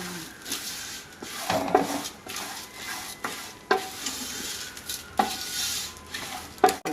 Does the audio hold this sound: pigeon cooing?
no